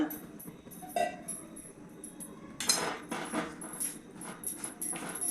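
A metal spoon clinks and scrapes in a pan, stirring a mixture of peanut, sesame and melted jaggery for til vadi. Quiet, irregular taps and scrapes with soft background hiss.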